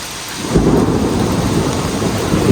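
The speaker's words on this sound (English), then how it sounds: "I'm not going to be down here in a thunderstorm." A deep, rolling rumble of thunder builds and lingers over the steady hiss of heavy rain.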